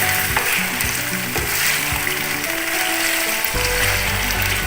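Ginger and garlic frying on medium heat in a pot, a loud continuous sizzle with intermittent metallic scraping and clatter of stirring.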